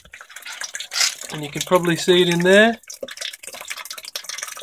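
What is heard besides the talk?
water dribbling down hydroponic tower over plant roots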